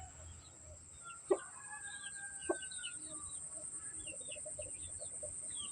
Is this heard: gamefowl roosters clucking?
yes